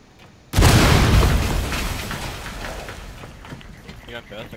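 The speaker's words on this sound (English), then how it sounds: "What was that explosion?" A sudden loud explosion in the video game Rainbow Six Siege bursts in after a quiet start, then rumbles and decays slowly over several seconds while players talk faintly beneath it.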